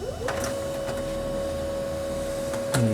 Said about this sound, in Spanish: ahí está imprimiendo pues correctamente